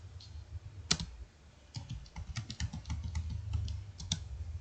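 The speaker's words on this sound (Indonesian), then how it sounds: "Kita ketik kembali." Typing on a computer keyboard while entering an SQL query, a quick irregular run of soft key clicks, close and fairly quiet, with no talk over it.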